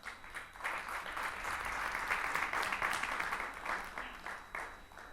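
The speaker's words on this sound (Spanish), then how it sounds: "El aplauso era para darle gracias a Dios por las madres." Church congregation applauding during a service, a steady wash of many hands clapping at moderate volume for the whole stretch, with faint voices mixed underneath.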